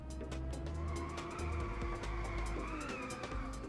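A car drifting in the racing game Inertial Drift, its engine droning steadily while tires skid and squeal through the slide, loud and continuous with shifting pitch.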